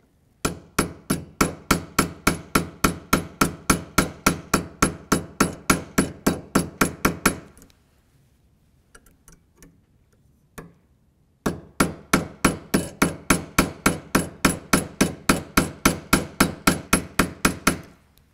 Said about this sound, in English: You're going to hammer lighter, and you're going to hammer closer to the crest or the line